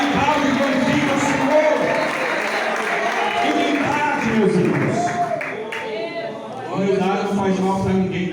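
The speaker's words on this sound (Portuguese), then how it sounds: "Pode aplaudir a Jesus. As palmas para Ele, não para mim." A church congregation claps and cheers during a sermon, the applause running throughout while a preacher speaks loudly over it.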